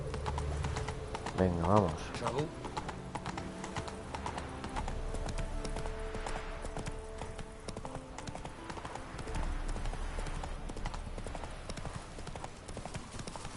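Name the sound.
horse hooves clip-clop in The Witcher 3 video game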